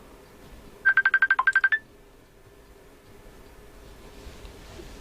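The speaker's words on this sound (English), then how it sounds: "Someone's ringing me." A phone rings during a live session of working on a Hickok 6000A tube tester, giving a quick burst of about ten rapid electronic trills, fairly close and clear, then stopping into quiet room hiss.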